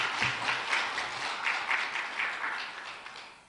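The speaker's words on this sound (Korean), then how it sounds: "여기서 박수" A congregation claps during a church service, a steady wash of applause that rises and falls in gentle waves before fading slightly toward the end.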